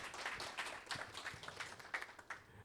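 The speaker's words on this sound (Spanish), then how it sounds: "un cálido aplauso nuevamente para el doctor Félix Iglesias" Audience applause at a hospital scientific conference, a quiet scattering of claps with irregular sharp hand strikes, faint and distant, no voices.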